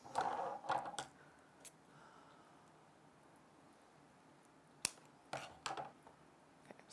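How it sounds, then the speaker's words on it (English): Scissors snip through a basket spoke as a woven basket is started, giving a few sharp, quiet clicks and cuts separated by near silence, close to the listener. "now I'm just going to take my scissors and I'm going to cut it off right there where it crosses over."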